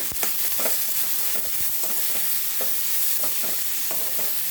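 Tomato and onion masala cooking in a pan with salt over low gas, a dense constant sizzle broken by repeated scraping stirs and light clinks of the spoon.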